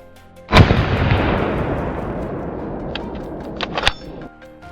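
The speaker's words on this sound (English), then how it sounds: "Without flinching, I aimed and shot one immediately." A single loud gunshot rings out during a wild boar hunt in open lowlands, followed by a long rolling echo that fades over several seconds, with a few faint clicks near the end.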